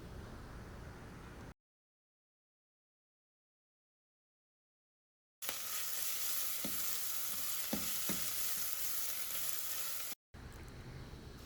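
Turmeric and ginger-garlic paste being stirred in a pan for a Telugu-style paneer curry, giving a steady frying sizzle with a few soft scraping taps, after a long stretch of silence.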